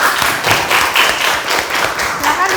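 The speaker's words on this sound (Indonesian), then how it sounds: "Beri tepuk tangan untuk kelompok 5." Audience applause for a group's school presentation: dense, steady clapping from a room of people that continues at an even level throughout, with faint background voices mixed underneath.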